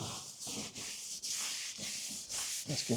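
A microfiber cloth wipes dust off a repaired cedar strip canoe, producing steady, close, soft rubbing strokes in a continuous back-and-forth rhythm, with no talking.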